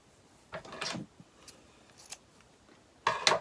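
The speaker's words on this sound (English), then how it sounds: "I did trim off some of the tails" Scissors snipping the tails off fall craft material, two or three short close cuts separated by quiet gaps, the final snips louder and crisper.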